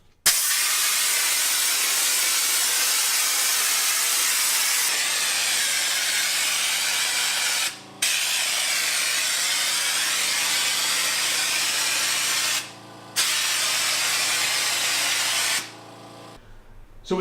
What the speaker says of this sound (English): set the compressor at 60 psi, and I'm going to start to spray texture and squeeze the bag as I spray